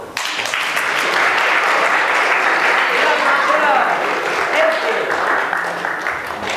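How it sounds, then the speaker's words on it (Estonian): A large audience at a school Women's Day event claps loudly and steadily for several seconds, a dense, sustained wash of applause. "Aplaus!"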